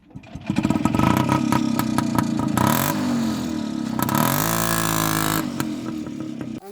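A Muravey walk-behind tractor pulling a trailer drives forward, its small engine running loud and close, rising and falling in two clear revving surges. No one speaks.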